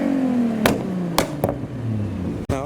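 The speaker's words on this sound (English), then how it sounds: "Oh, the Supra is rolling by again." A Toyota Supra rolls past at a car show. Its engine note sweeps downward as it passes close by, with a few sharp clicks and clunks over the steady, fairly loud drone.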